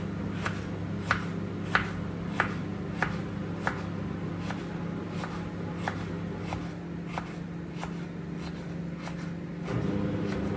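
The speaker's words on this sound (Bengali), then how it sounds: "কুচি কুচি করে কাটতে নিই" Vegetables for vegetable khichuri being finely chopped with a knife, a steady series of sharp knife strikes on a board at a regular rhythm over a low hum of background noise, with no talk.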